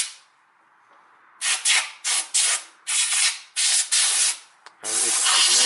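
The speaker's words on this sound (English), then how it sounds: "And there is this compressed air." Compressed air blasting through an automatic transmission filter from a Toyota Camry, a series of about six loud hissing bursts of uneven length, ending in a longer continuous blast.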